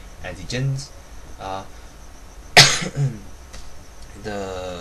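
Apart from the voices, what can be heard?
cough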